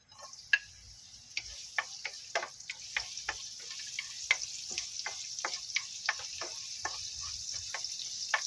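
Garlic frying in a pan as a fish and tofu dish is being cooked: a steady soft sizzle runs throughout, broken by a quick series of sharp ticking pops and spatters of moderate loudness.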